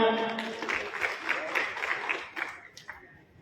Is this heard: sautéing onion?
no